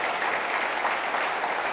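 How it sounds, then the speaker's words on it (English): An audience at a summit event breaks into steady applause, a dense, even wash of many hands clapping at moderate distance, sustained without pause. "so round of applause for him and his staff"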